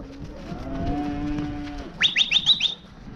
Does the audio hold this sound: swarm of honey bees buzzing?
no